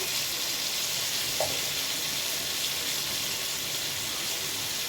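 Frying chilli masala with garlic and green chilli in a pan as a little water goes in, an even hissing sizzle with a brief splash-like burst, close and unbroken.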